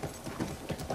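Horse hooves clip-clop in a quick, even rhythm during gameplay of The Last of Us Part II, the steps soft and moderately close over a brief stretch.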